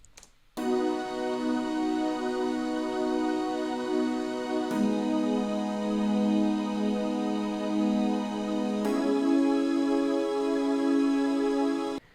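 Layered synth chords from a DX7 and a Jupiter 8 blended into a full organ-like patch for a folk pop final chorus, sustained loud and steady, changing chord twice across the passage, with no voices.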